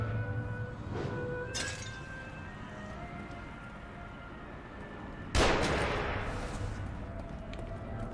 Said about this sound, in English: Dude, who is shooting at me?